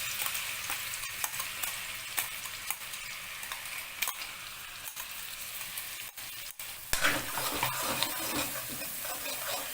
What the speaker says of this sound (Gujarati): આપણું ઘી સરસ ગરમ થઈ ગયું છે. તેની અંદર ઉમેરીશું લીલા મરચાંની પેસ્ટ.